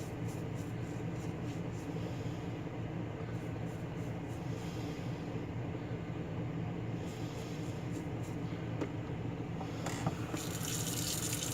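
Cold tap water running steadily over Remington 1858 revolver parts in a sink, a continuous close splashing gush with slight shifts in the flow as the metal parts are moved under it.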